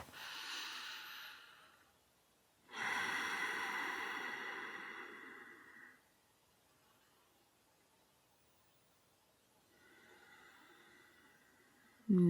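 Slow, deep breathing during a guided meditation: long airy inhales and exhales separated by quiet pauses, close and fairly soft, with no speech.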